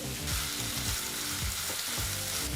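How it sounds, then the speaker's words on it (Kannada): Onions fry in a pan for a sweet potato and chili vegetable stir-fry, giving a steady close-up sizzle with a dense hiss that never lets up, broken by low scraping knocks as they are stirred. "ಈಗ ಈರುಳ್ಳಿನ ಮೂರು ನಿಮಿಷ ಫ್ರೈ ಮಾಡಾಯಿತು"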